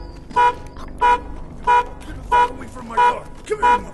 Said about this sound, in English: The car alarm had sent a man rushing like a minotaur from a nearby townhome.